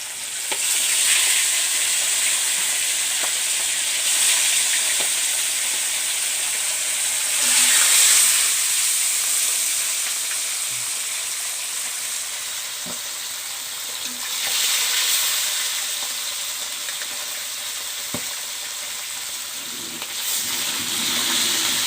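Pieces of rohu fish sizzle in hot oil in a pan for a village-style masala curry, a steady close hiss with occasional swells and faint stirring clicks, no voices.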